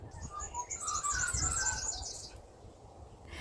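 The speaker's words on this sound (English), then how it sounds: "I am filming outside, so you hear birds, breeze, cars." Birds chirp and tweet outdoors in a steady overlapping chorus of high calls, moderately close, with a soft breeze and distant traffic rumbling underneath; the birdsong thins out toward the end.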